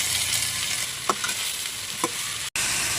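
Chicken feet fry for adobo in a pan with garlic, onion and ginger, a loud constant sizzle broken by a few stirring clicks and one abrupt cut-out near the end.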